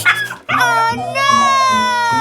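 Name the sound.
cartoon dog whimpering and barking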